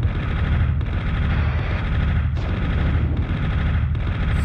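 In the Army Men: Green Rogue video game, rockets and heavy weapon fire are aimed at the player, making a loud, unbroken barrage of bursts and booms with brief dips between volleys.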